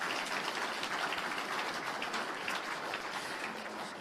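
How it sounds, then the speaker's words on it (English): An audience at an innovation awards ceremony applauds the sponsors, dense steady clapping from many hands that holds at an even level throughout with no voices over it. "What about a round of applause for those generous sponsors?"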